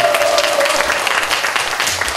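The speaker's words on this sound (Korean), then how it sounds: "크게 박수로 환영해 주시면 저희들이 찬양에 힘이 날 것 같습니다" Church congregation applauding at a 14th-anniversary praise concert as the band's drummer is introduced, a dense, steady wash of many hands clapping throughout.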